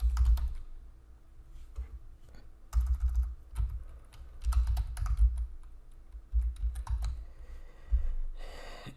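Typing on a computer keyboard, close and steady, in bursts of rapid clacking keystrokes separated by short pauses, with no one talking.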